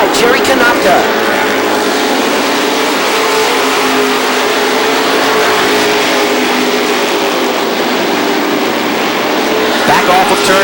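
Race cars circling the track at Thompson Speedway during weekly racing, engines roaring continuously and loudly with revving swells, a commentator talking over the noise.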